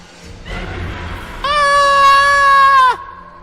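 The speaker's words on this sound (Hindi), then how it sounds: "मेरी चीख ने जैसे घर में किसी चीज को जगा दिया हो।" A high, sustained scream in an animated horror story, rising sharply and held for about a second and a half over low background music, then cutting off abruptly.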